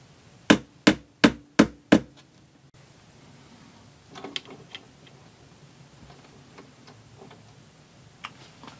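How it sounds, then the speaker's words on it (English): A small hammer taps five times in quick, even succession on a concave metal part of an antique Seikosha wall clock movement being flattened, crisp and close, followed by faint handling clicks. "Hit it with a little hammer."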